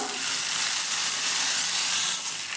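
Hot coconut oil tempering poured into a potato and curd curry sizzles and fries steadily, a bright continuous hiss with no voices over it.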